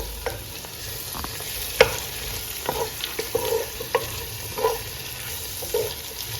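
Shrimp stir-frying in a hot pan for Filipino pancit, a steady sizzle under sharp clinks and scrapes of a spatula stirring at an irregular pace.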